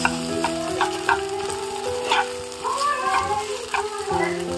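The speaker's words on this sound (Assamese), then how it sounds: "আমি ভাত দি পেলাই পেটু ভাজি কৰি খাওঁ" Fish belly frying in a pan on a lowered flame, a close steady sizzle and crackle with occasional sharper spits and light scraping, going on continuously without voices.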